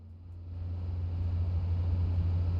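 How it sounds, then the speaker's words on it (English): A noisy car engine from the video game Cities: Skylines II gives a steady low droning rumble that swells slightly and holds, close and loud, with no talking. "Wow, that's a noisy car."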